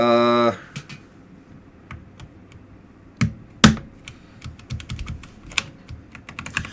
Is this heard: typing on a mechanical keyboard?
yes